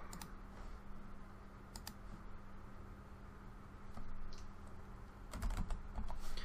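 Computer keyboard typing while code for a basic HTML, CSS and JavaScript escape room is entered, heard as quiet, uneven bursts of key clicks over a steady low hum, with denser clattering toward the end.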